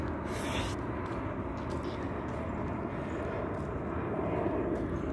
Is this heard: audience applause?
no